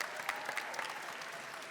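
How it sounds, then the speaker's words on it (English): Applause from an audience at a Bowie State University fall convocation, a steady, fairly soft patter of clapping that runs through the whole moment without pause. "So give his son another round of applause."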